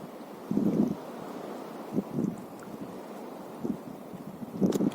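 Gusty wind blows across an open desert trail, with several low buffeting gusts striking the microphone in irregular bursts over a steady, faint background rush.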